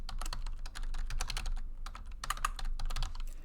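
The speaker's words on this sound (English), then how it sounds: "type that in." Fingers type on a computer keyboard in a close, steady clatter of rapid key presses with short pauses, and no voices.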